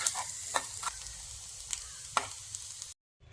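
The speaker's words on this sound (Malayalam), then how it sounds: "ഇത് നമുക്കൊന്ന് ഇളക്കി കൊടുക്കാം." A spoon stirring chopped carrot pieces into rice-water soup in a pan, with a soft sizzle under a string of separate scraping clicks, close and fairly quiet, before the sound cuts out near the end.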